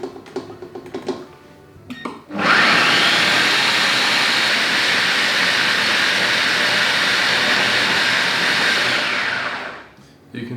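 A food processor grinds nuts into nut butter, a loud, steady motor roar that starts abruptly after a few handling clicks and runs for about seven seconds before cutting off.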